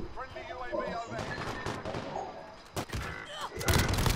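Call of Duty Modern Warfare gameplay with bursts of automatic gunfire and sharp shots, loud and clustered toward the end, mixed with game noise and voices underneath.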